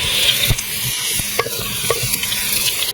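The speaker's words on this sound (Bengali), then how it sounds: "এখন আলুগুলো ভেজে নিচ্ছি।" Potatoes fry in oil and ghee for mutton biryani, a continuous close sizzle broken by repeated scraping stirs of a spoon against the pan, with no one talking.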